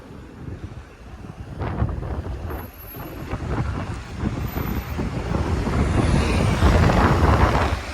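Gusty wind buffets the microphone outdoors on a Toronto neighbourhood street, rumbling low and building louder toward the end, with a faint high tone above.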